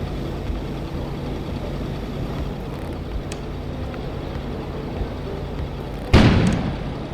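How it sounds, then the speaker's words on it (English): A single muffled explosion goes off outside near the end, a sudden boom with a short rumbling decay following a long stretch of low steady ambience, in the snowy game Kona. "An explosion suddenly occurred outside."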